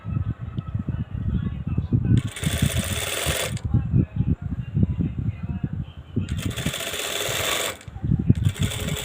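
A sewing machine stitching fabric pieces together runs in two long bursts of rapid mechanical whirring, with quieter handling noise between them and someone talking throughout.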